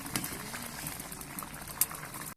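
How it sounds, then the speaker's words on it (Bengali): Curry gravy bubbling and boiling in a cooking pot, a soft continuous simmer with small pops and bursts of bubbles, close and steady, with no talking. "তরকারি রান্না শেষের পথে প্রায়। দেখুন কত সুন্দর টকবকে ঝোল।"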